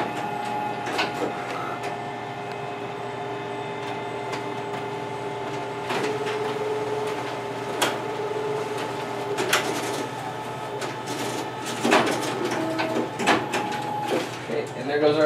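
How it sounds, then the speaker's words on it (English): A Xerox WorkCentre 7435 copier prints, staples and hole-punches copies, giving a steady mechanical whir with rhythmic clicks, clacks and sharper punching thumps. A person talks over the machine noise. "there goes our copies, stapled and hole punched"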